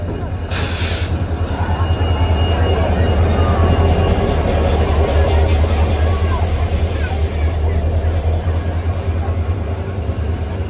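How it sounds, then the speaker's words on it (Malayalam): The Silchar–Agartala Express pulls into Badarpur station with a loud, continuous low rumble and hiss of wheels on rails, holding steady and close for the whole stretch. "9:40 ഇപ്പോൾ സിൽച്ചർ അഗർത്തല എക്സ്പ്രസ് ഇതാ കടന്നു വരികയാണ്"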